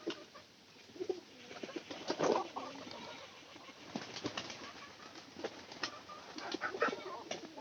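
Pigeons coo softly and repeatedly at a quiet, moderate distance, with a few light wing flutters and patters mixed among the low calls.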